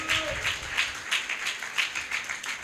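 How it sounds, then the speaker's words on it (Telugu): A church congregation claps together in praise to God, sharp claps in a steady even rhythm, loud and filling the room. "చప్పట్లు కొట్టి దేవుని నామాన్ని మహిమపరుద్దాం."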